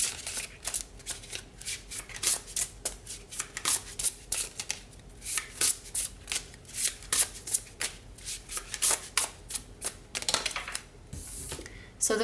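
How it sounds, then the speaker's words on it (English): An oracle card deck with a celestial bodies theme is shuffled for several seconds, giving rapid bursts of crisp riffling and flicking close up, with no talking. "now we are going to shuffle this Celestial Bodies Oracle deck for some time frames"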